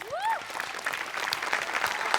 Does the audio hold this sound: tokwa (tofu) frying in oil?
no